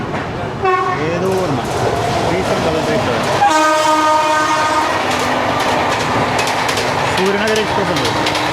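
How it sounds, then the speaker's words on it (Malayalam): Suryanagari Express passing close by with a loud horn blast, then steady rumble and rhythmic wheel clatter over the rails, with a second horn near the end and a voice speaking over it. "സൂര്യനഗർ എക്സ്പ്രസ് ഉണ്ട്."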